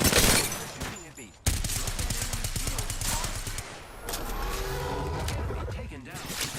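Rapid bursts of automatic gunfire from the video game Apex Legends play loud and dense, mixed with game effects, while a player talks over the action.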